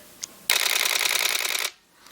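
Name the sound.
Nikon D4 camera shutter firing in continuous high, 10 frames per second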